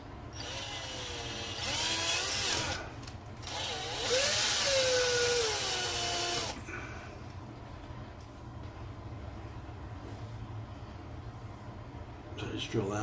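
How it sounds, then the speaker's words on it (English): A power drill boring out holes in an RC car bulkhead whines in two bursts of a few seconds each, pitch rising as it spins up, followed by quieter handling noise. "So we just gotta drill these bad boys out."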